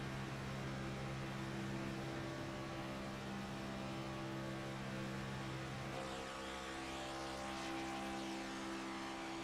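A NASCAR race car engine at Talladega in the iRacing game drones steadily flat out in fifth gear, a loud sustained tonal roar whose pitch shifts slightly partway through, with no talk.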